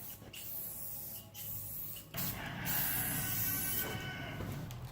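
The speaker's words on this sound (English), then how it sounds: "When you're spray painting, a bunch of light coats is better than one heavy one that just drips and runs" Aerosol spray paint hissing onto a galvanized metal pole in short bursts, a few light passes with brief gaps between them, close and fairly steady.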